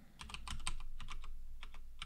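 Someone types a short name on a computer keyboard, a few clusters of light key taps at an uneven pace over a low background hum, with no talking.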